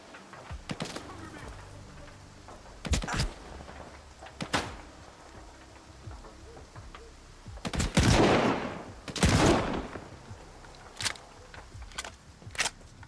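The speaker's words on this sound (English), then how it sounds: "The shotgun feels right." Shotgun blasts from S.T.A.L.K.E.R. 2 gameplay: several loud, sharp booms spaced irregularly, including a heavy cluster near the middle and a few later shots, over quiet game ambience.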